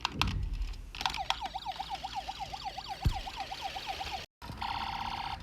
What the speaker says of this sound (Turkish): Yak sirenleri gidiyoruz.